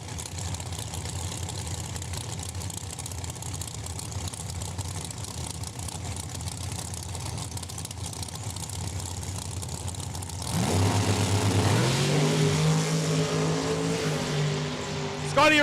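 A Corvette drag race car at Saskatchewan International Raceway rumbles at a steady, loud idle before the engine revs harder and rises in pitch toward the end, heard at close range.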